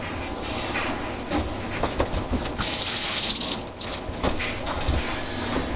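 A cleaning rag is rinsed and wrung in running water in a sink of a 1954 house: loud splashing and rushing tap water with sloshing bursts, close and continuous with no talk.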